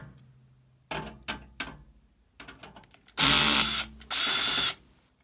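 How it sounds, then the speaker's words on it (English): Cordless power drill backing out a tight mounting screw on a PC case, a few quick clicks and taps, then two loud close whirring bursts of about a second each. "We just have to unscrew this screw, which is too tight to unscrew by hand."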